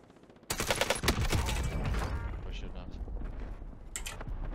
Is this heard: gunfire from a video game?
yes